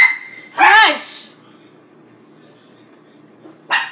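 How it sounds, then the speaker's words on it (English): A pet dog in a home kitchen gives a sharp, loud bark close by, then falls quiet, and a second shorter bark comes near the end. A person's voice is also heard. "she barks at every little thing and it's so annoying"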